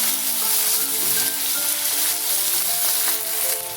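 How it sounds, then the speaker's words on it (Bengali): A paste of ground ginger and green chili with turmeric fries over a low gas flame, giving an even, continuous sizzle that stays close and fairly loud throughout. "গ্যাসের ফ্লেমটা লোতে রেখে মশলাটা কষিয়ে নিচ্ছি"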